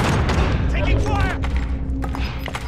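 Gunfire and heavy thuds in a Call of Duty Modern Warfare battle royale match, a dense burst of rapid shots up close with voices shouting over the firing.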